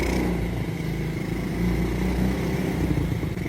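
A motorcycle engine revving close by, a loud, rough rumble that surges and eases over a few seconds, with no talking over it.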